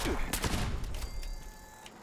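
Short burst of rapid gunfire from a weapon in the video game Fallout 76, several quick shots at moderate level, then fading game ambience.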